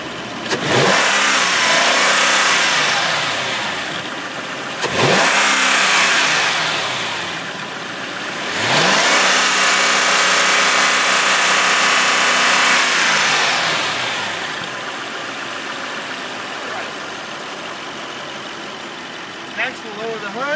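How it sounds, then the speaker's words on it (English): The engine of a 2003 Mercedes-Benz AMG SL55 revs three times from idle, each surge rising to a loud roar and falling back to a steady idle, heard up close with no talk. "Now I'm going to rev up the motor so you can hear it."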